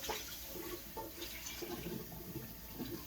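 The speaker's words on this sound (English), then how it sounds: "Same deal, straight under cold water." A pan held under a running cold-water tap, giving a steady, faint hiss of flowing water that lasts throughout with no voices.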